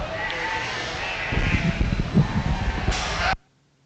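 Sheep bleat in the show ring at the 2024 Laramie County Fair FFA lamb show, several loud wavering bleats over a steady arena hum and shuffling, with low crowd murmur beneath, then cutting off abruptly.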